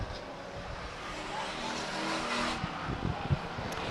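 Stock cars roar around the Stockton 99 Speedway oval in a 1999 race, a continuous loud engine drone with a few sharp bumps and rising revs, heard from the grandstand without talk.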